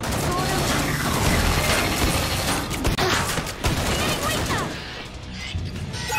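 Weapon reloading in Killing Floor 2: clicking, ratcheting mechanical clatter mixed with bursts of gunfire, dense and continuous throughout, with a voice briefly speaking.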